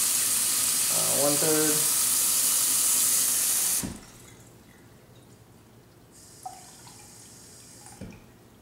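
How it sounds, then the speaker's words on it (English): Tap water runs from a kitchen faucet into a cup in a steady, close rush for about four seconds, with a brief voice over it. Then the flow cuts off, leaving a quiet room with a couple of small clinks. "So I'm gonna just fill this cup with water. Got the faucet."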